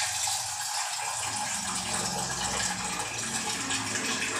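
Water pours from a glass in a home kitchen, a steady gushing stream that runs the whole time, moderately loud and close, with no talking.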